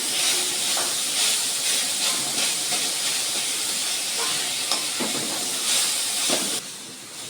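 A coconut and batasa filling for mango patisapta cooks in a hot wok, producing a loud, steady hiss and sizzle that runs close and unbroken for several seconds before dropping off suddenly at the end.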